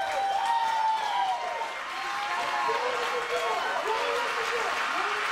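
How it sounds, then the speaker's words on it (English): Wedding guests at an evening reception clap and cheer for the bride, a crowd applause running under loud overlapping voices and chatter close by. "I would like a big round of applause for my wife."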